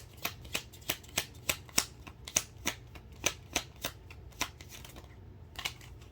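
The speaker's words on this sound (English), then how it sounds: "let's get one more shuffle" Crisp, regular riffling snaps of playing cards being shuffled, about three per second, close up against a low steady background hum.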